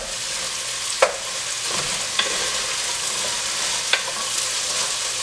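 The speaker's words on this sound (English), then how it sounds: "I'm just breaking my my diced onion up." Diced onion softening in a pot sizzles with a continuous bright hiss while a spoon stirs and breaks it up, giving a few sharp clicks and scrapes at irregular intervals, close by with no talking.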